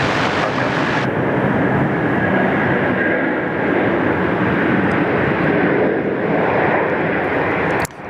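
A Malaysian airliner lands on runway 34 left at Sydney Airport, its engines a loud, steady roar that holds throughout and cuts off abruptly near the end.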